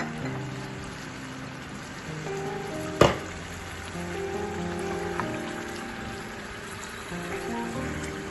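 Chicken sizzling and frying in a pan after a little water is added, a steady soft crackle with one sharp clank near the start; close and fairly quiet, no talk.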